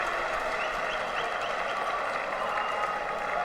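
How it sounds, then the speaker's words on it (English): A crowd at a European Champions League table tennis semifinal cheers and applauds after an extended rally, a steady, dense wash of clapping and voices sustained at even volume throughout. "much to the admiration and cheers of the crowd, as you heard"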